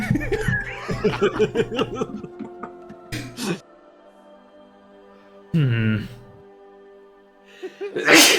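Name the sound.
sneeze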